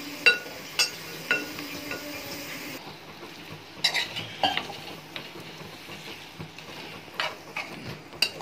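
Fish eggs being stirred in a pan over a low gas flame, with scattered scraping knocks of a utensil against the pan over a faint, steady sizzle.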